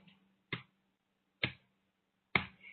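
Three sharp, quiet hand claps against the body, evenly spaced about a second apart, isolated against near silence.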